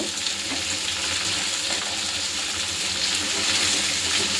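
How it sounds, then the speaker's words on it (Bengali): Vegetables with salt and turmeric fry in a pan for a curry of drumstick stems, potato and dried fish. A steady, close sizzle runs throughout with no talking. "এখন নুনটা দিয়ে আর হলুদ দিয়ে একটু ভেজে নেব।"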